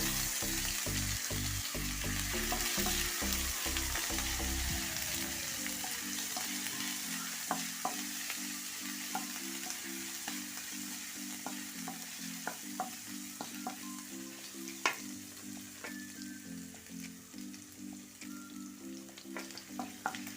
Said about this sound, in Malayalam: വെളുത്തുള്ളിയും ഇഞ്ചിയും കൂടെ പേസ്റ്റാക്കിയതാണ് അതുകൂടെ ഇട്ട് കൊടുക്കുക ഒരല്പം മതി ഒരു പച്ചമുളക് അരിഞ്ഞതും കൂടെ ഇടാം ഒന്ന് ഇളക്കി കൊടുക്കാം